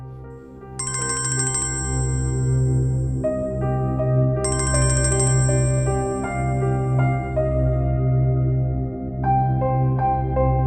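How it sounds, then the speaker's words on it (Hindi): A phone ringtone plays loud and close, a repeating electronic melody with bright high chimes that cycles steadily with no one talking over it. "किसकी कॉल है?"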